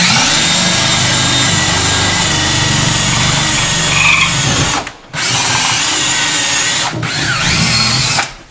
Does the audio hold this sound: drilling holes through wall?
yes